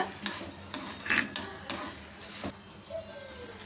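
Rasam spices being dry roasted in a pan, with metal utensil scrapes and clinks against the cookware coming in several irregular bursts, close and fairly quiet.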